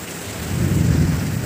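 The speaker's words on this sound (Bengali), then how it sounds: "আমার এই কি বৃষ্টি হচ্ছে" Heavy rain pours steadily with deep thunder rumbling close by during a storm, the low roar swelling and holding loud throughout without any talk.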